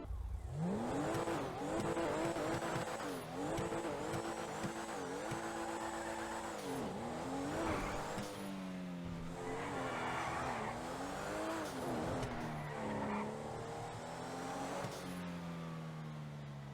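The Pfister Comet sports car engine in GTA Online revs and shifts through gears repeatedly, rising and falling in pitch with tire squeal, loud and close.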